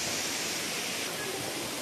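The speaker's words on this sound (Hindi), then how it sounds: "देख लीजिए आप कितना स्पीड में पानी बह रहा है।" Fast water rushes near a waterfall at a dargah set among green hills, a dense, steady roar filling the whole clip without pause, close and continuous.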